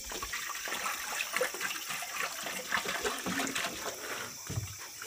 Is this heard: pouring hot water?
yes